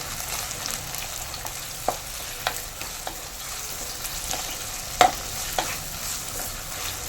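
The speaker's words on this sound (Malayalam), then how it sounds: "കൂടെ തന്നെ തക്കാളി ഇട്ട് കൊടുക്കാം പച്ചമുളക് ഇട്ട് കൊടുക്കാം ഇതെല്ലാം കൂടെ ഒന്ന് നല്ലപോലെ ഒന്ന് വഴറ്റിയെടുക്കാം" Onion, tomato and green chili sautéing in a pan for a Kerala fish curry, a steady close sizzle broken by occasional sharp clicks of a spoon stirring against the pan.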